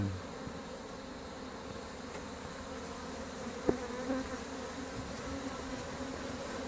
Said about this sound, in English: lot of bees on that side.